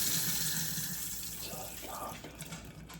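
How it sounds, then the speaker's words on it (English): Water runs steadily from a tap into a sink during a water heater inlet hose repair, a continuous nearby splashing flow with faint hum underneath. "Now we can just run some water."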